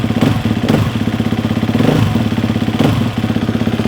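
A 2022 KTM 350 motorcycle idles after a cold start in a shop, its engine loud and close with a steady, rapid thumping pulse and a slight rise and fall in pitch, with no voices.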